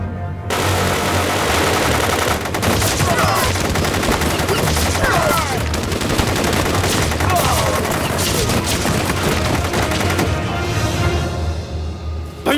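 Gunfire in a Chinese spy war drama: loud, dense bursts of shots and rapid automatic fire that go on almost without a break, with a few raised voices mixed in.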